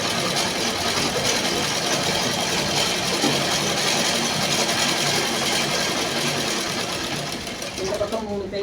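A sewing machine runs steadily, stitching a blouse, its rapid mechanical whirr continuous while someone talks over it, the machine slowing toward the end.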